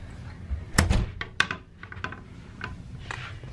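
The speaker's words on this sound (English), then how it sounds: "you'll just use your little card, tap it, and then your door actually opens out" A keycard-opened cruise ship balcony cabin door on Symphony of the Seas opens outward with a loud close thunk, followed by a few softer knocks and rattles in a quiet room.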